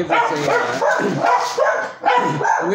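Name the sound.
dogs barking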